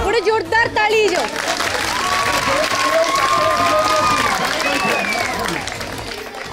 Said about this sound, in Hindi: बड़े जोरदार ताली